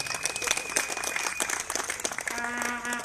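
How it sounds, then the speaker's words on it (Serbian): An audience at a political rally in Knjaževac breaks into dense, sustained applause, many hands clapping at once, with a tone briefly ringing through near the end. "Aplauz za našu Jelenu."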